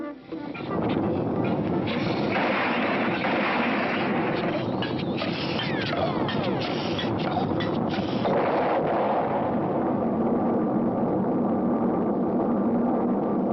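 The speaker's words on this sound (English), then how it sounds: "Wow-wee, what a takeoff! Still accelerating." A cartoon rocket lifts off and keeps accelerating with a loud, continuous roaring rush and hiss, sustained and dense from start to finish, with no talk over it.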